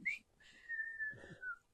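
A person whistles a short, faint melody of a few drawn-out notes with small pauses between them, heard close and alone.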